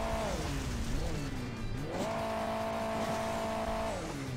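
Car engine in the Hill Climb Racing 2 mobile game, revving up and down with a looping whine that dips, then holds a steady high drone, loud and continuous without talk.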